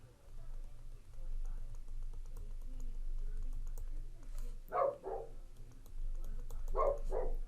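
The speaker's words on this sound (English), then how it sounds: "working from home, and now you get to hear the dogs again." Dogs bark indoors in a home, two short clusters of barks a couple of seconds apart, heard over a steady low hum and light keyboard typing.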